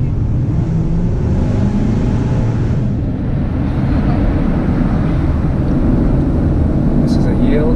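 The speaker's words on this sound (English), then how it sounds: "I can actually hear it in this tunnel." A deep, rumbling 2018 Lexus LC500 exhaust drones steadily, echoing inside a tunnel, loud and continuous with road noise underneath.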